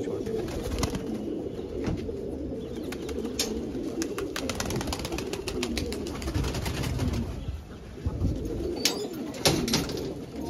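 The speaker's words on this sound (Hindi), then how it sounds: "ये दोस्तों के सारे कबूतर हैं।" Pigeons in a large flock of more than 165 birds kept by a fancier in Rohtak coo continuously and densely, with scattered clicks and flutters all around.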